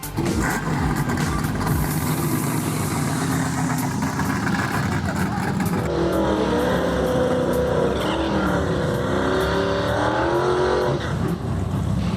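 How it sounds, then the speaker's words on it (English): A Mitsubishi Eclipse racing at a drag strip, its engine roaring steadily and loud with a rising, revving pitch toward the end, amid crowd and track noise with some voices. "This guy's in his Eclipse, tearing it up at the drag races."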